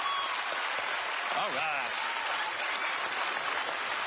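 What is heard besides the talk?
audience applause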